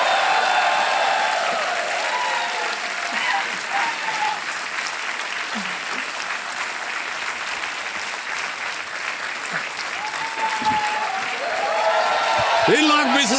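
Studio audience applause on the set of the Hindi television quiz show Kaun Banega Crorepati, a dense, steady wash of clapping that fills the whole stretch, swelling slightly louder toward the end with no talk over it.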